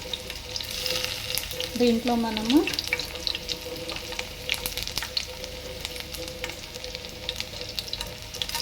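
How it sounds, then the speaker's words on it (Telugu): Onions (garlic in the cooking) frying in hot oil, a continuous close sizzle with scattered crackles and stirring, a voice speaking briefly over it early on. "ఎల్లిపాయలు అనేది ఇలా నల్ల కొట్టేసుకొని వేసుకుందాం"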